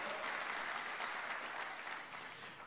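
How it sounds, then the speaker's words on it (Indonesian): A church congregation at an online worship service gives applause, a dense continuous wash of clapping that stays even and then eases slightly toward the end, with no voices over it. "Yang percaya berikan tepuk tangan buat Allah kita."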